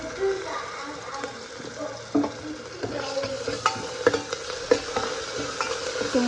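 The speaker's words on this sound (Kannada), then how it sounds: "ಈಗ ಶುಂಠಿ ಬೆಳ್ಳುಳ್ಳಿ ಪೇಸ್ಟ್ ಹಾಕ್ತೀನಿ." Ginger garlic paste fries in a pan for chicken soup, a soft sizzle with stirring scrapes and a few sharp clicks, moderately close, with some faint voice sounds underneath.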